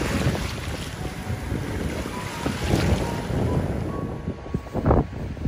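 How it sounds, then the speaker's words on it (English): Rough sea waves wash and break on a Jurassic Coast beach under gusting wind, with heavy continuous surf noise and louder crashing surges. "You can hear the sea, how rough it is."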